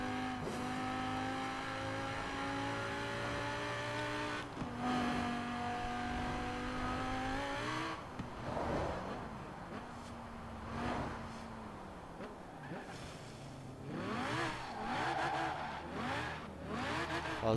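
A BMW E92 M3 engine in Forza Horizon 4 revs and accelerates in a tunnel, exhaust pops and roars echoing, with gear shifts and a squeal; no voices.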